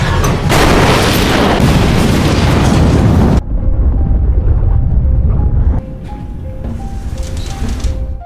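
A bomb explodes on the Snowpiercer train in a film scene, a huge sustained roaring blast that stays loud for several seconds before giving way to a lower rumble with faint tones.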